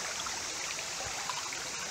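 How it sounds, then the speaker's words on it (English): Water flows steadily in Bushkill Creek at Jacobsburg Park in Pennsylvania, a constant close rushing and trickling wash with no voices. "I'm standing in the middle of the Bushkill Creek,"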